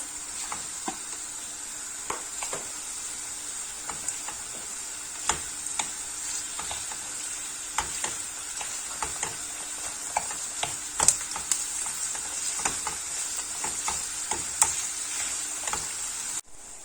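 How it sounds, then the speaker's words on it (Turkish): Ground meat sizzles steadily in a pan for a Turkish potato-and-mince börek filling, with a constant hiss of frying and intermittent clicks and scrapes of stirring close by. "Üzerine kıymayı ilave ederek suyunu salıp çekene kadar tekrar pişirmeye devam ediyoruz."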